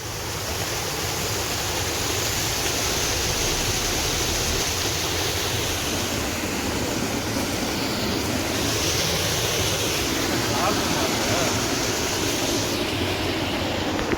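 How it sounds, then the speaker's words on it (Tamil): Loud, steady rush of water roaring continuously throughout, like a nearby torrent or falls, with no voices. "சத்தம் எப்படி தண்ணி ஓடுது"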